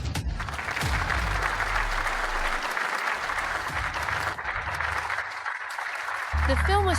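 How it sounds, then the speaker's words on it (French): Audience applause at a competition welcoming three judges to their seats: a dense, steady wash of clapping from a full room for about six seconds, with a voice and brief musical tones rising over it at the end. "accueillons chaleureusement par des applaudissements les 3 juges à leur siège"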